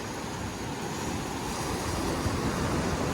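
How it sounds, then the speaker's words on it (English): Sea waves wash onto the shore at night in Guardamar del Segura, Spain, a continuous broadband roar of surf that holds steady throughout with no voices over it. "sitting here at night, listening to the waves"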